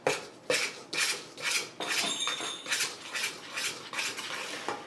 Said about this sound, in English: So put that in there with my flour. We're going to mix this up.